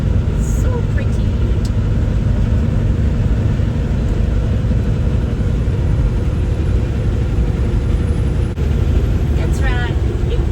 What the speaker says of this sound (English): Big truck coming.